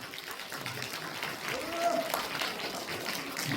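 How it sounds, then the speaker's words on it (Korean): A crowd at a political speech in Busan applauds in a soft, distant wash of clapping, with a faint voice and murmur mixed in. "힘찬 박수를 부탁드립니다"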